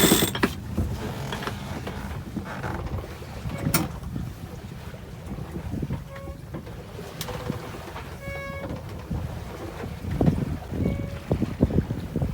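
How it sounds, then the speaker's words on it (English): Intermittent high squeaks and creaks from a sailboat's swim ladder over soft water and ambient noise, with a few faint bird calls in the distance. "That squeaking noise is the swim ladder"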